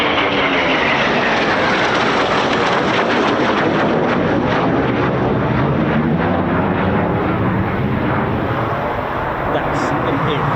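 An RAF Eurofighter Typhoon FGR4 jet at RAF Coningsby roars past in a loud, sustained broadband blast with a shifting tearing rumble that slowly fades, and a voice is heard faintly beneath the noise.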